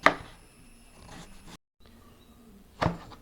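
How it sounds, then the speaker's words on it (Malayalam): A knife cuts guava into long julienne strips, a sharp chop on a board at the start and another near the end with faint scraping between, close and otherwise quiet. "ഈ പേരക്കൊന്ന് ഇങ്ങനെ ജൂലിയനായിട്ട് നീളത്തിൽ ഇങ്ങനെ കട്ട് ചെയ്തെടുക്കുക"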